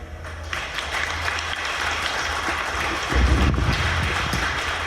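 At a book presentation for "Corazón de Tinieblas", an audience breaks into continuous, even applause that swells louder partway through, with a dull low thump mixed in.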